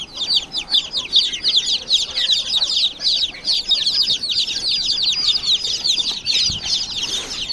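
Dense, continuous high-pitched peeping from a crowd of newly hatched desi (native village) chicks in a poultry brooding setup, close and steady with overlapping calls throughout.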